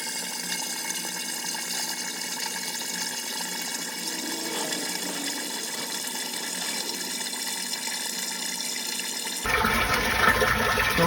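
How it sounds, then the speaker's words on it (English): Water from a hose runs steadily into a septic tank lift station pit, a continuous close rushing pour that grows louder and brighter near the end, with no talking. "I'm going to throw the hose back in here and fill the water so that I submerge that float"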